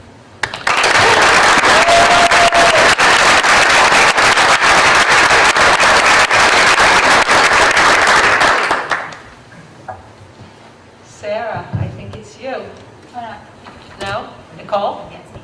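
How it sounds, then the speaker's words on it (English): A board of education meeting audience gives loud, sustained applause for a retiring staff member for about nine seconds; it stops abruptly, and a person then speaks. "We sincerely appreciate and applaud Susan Fisher's contributions to our district"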